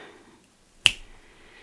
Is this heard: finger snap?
yes